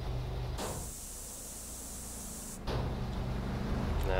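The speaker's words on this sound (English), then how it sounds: "I just gotta get up here and into the pay and spray." A car is spray painted at a Pay 'n' Spray garage in GTA San Andreas, Definitive Edition: a steady hiss of spraying cuts in briefly, drops away, then returns alongside a low engine hum.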